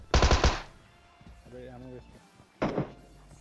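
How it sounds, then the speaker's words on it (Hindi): Tommy gun fire in the mobile battle-royale game PUBG Mobile: a loud rapid burst up front, a quieter tonal game effect in the middle, then a second shorter burst near the end. "ये जो टोमी गन है ना इसकी भी एमओ बचा के चलानी पड़ रही है"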